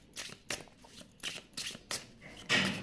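Tarot cards are shuffled and split into piles, giving a series of close, crisp riffling bursts at a steady rhythm, each followed by short pauses, ending on a louder flurry.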